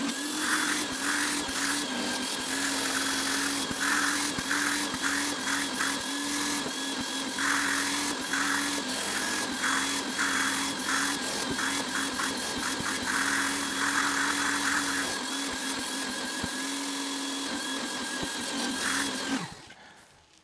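An extractor vacuum rinses fabric car upholstery with a steady loud motor whine and rhythmic sucking pulses as the nozzle passes over the cloth, then the motor cuts off and winds down at the end.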